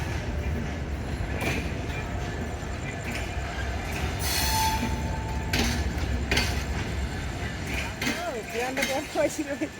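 An express train rumbles steadily through Biman Bandar railway station at night with metallic wheel squeals and brake hiss, a crowd murmuring and voices talking nearby throughout.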